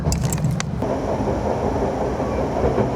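An Akita Nairiku line train runs on the rails, a loud, continuous rumble recorded from the rear of the train, with a few sharp clicks at the start.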